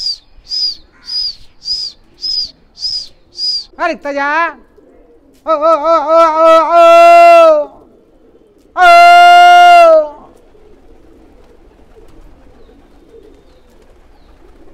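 Fighter pigeons kept by a hobbyist coo and call in a loft, with a run of short repeated chirps at first, then longer loud calls while a voice speaks briefly among them.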